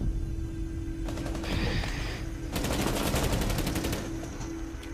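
Rapid bursts of video game gunfire crackle during a ranked shooter match, a short volley followed by a longer sustained automatic stream, fairly close and sharp with no talking.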